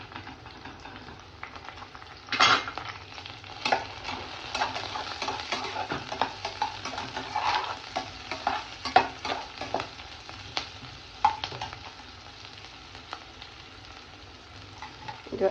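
Onion and green chili frying in a pan for an Indian potato bhaji, giving a steady close sizzle with frequent clattering stirs and scrapes of a spoon, and no talking.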